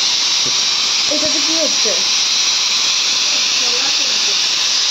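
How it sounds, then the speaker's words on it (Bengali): Chickpeas boil in a pot on a home stove, giving off a loud, steady steam hiss throughout while someone briefly talks close by. "এটা তো ছোলা সিদ্ধ হচ্ছে"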